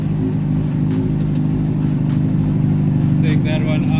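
A wrecked 2006 Honda CBR600RR motorcycle engine, hooked up to a car for power, runs at a loud, steady idle with a constant droning hum throughout.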